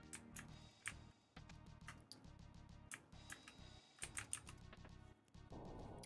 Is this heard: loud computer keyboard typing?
yes